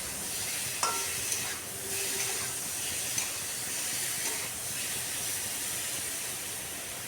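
Ridge gourd fries with spices in a pan, giving a soft, steady sizzle and hiss that stays faint and continuous throughout, with a few light clinks of stirring and no talk.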